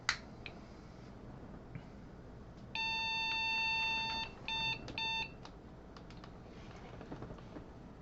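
An IBM 5150 PC beeps after power-on: a sustained electronic tone followed by several short beeps in a quick pattern, surrounded by quiet clicks and faint room noise.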